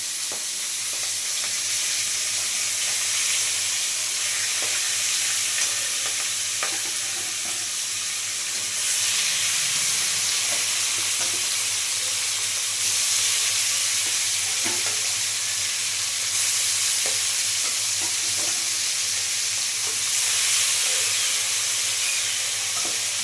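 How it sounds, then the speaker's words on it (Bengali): Fish pieces fry in hot oil with a steady, close sizzling hiss throughout, dotted with faint pops and crackles and no voices. "খুব সুন্দর লাল লাল করে ভেজে নেবো মাছগুলো।"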